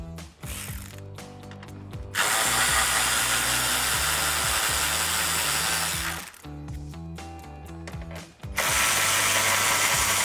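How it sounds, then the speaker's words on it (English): A socket ratchet turns out the 10mm bolts along the top of the grille on a 2009-2018 RAM 1500 pickup, its fast pawl clicking running in loud close bursts with short pauses between them. "So I'll use my 10mm socket on a ratchet and pull those out."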